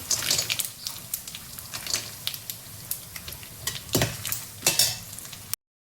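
Curry leaves, almonds and sliced coconut fry in hot oil in a pan, giving a close, bright sizzle broken by frequent spoon scrapes and stirring clatter, with no talk.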